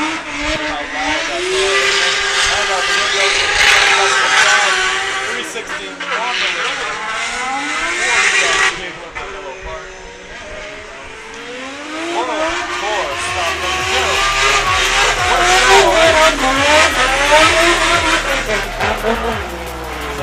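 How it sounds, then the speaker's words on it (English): A Nissan S15 drift car at Mondello Park screams at full throttle along the wall, its loud engine note rising and falling with each rev, while commentators talk excitedly over it. "He is foot to floor as he fires this S15 back up against the wall"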